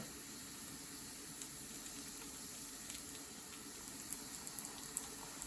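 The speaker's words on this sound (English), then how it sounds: "Our butter is starting to sizzle away" Soft, steady sizzle of butter in a pan, a faint continuous hiss with occasional tiny pops, quiet and close.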